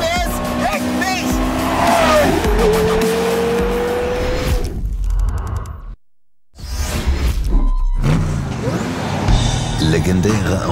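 A Porsche Carrera GT's 5.7-liter, 612-horsepower V10 screams past, loud and high-revving, with tire squeal and whooshing, briefly cutting out before roaring again, with voices underneath.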